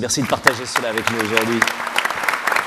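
Audience applause at a conference-style forum, a patter of clapping running beneath someone speaking close to the microphone, rising briefly in sharper bursts.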